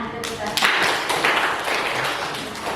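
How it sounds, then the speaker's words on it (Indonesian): A classroom of students claps together after a chant, a burst of hand clapping that starts sharply and carries on at moderate volume, with some voices mixed in. "Ya, tepuk tangan."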